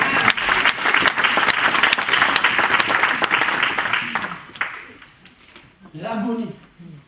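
A church congregation claps steadily in loud, dense applause for about four seconds, then it thins out and fades, and a preacher's voice follows near the end.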